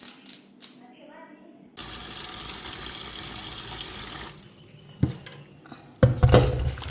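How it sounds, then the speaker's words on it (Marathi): Tap water runs into a kitchen sink as vegetables such as tomatoes are washed, a steady close rush for a few seconds, followed by knocks and clatter of produce and dishes, with people talking around it. "छान धुवून घ्यायचं त्याच्यावरती धूळ वगैरे निघून जाते"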